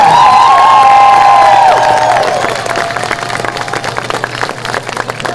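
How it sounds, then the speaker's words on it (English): Loud stadium crowd at a North Kansas City High School homecoming football game cheering and clapping for a Hall of Fame inductee, with a sustained roar and whoops that settle into continuous applause. "Let's give another big round of applause to our North Kansas City High School Hall of Fame inductee."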